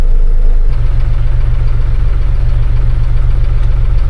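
A farm tractor engine runs steadily at a low idle, a loud, continuous rumble with a faint knocking pulse that holds throughout with no talking.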